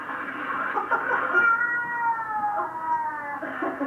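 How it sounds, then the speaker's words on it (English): A cat caterwauls in a long, drawn-out, wavering yowl with rising and falling pitch, close and fairly loud and heard alone, from a compilation of cats objecting to handling. "Cat sounds like a dog."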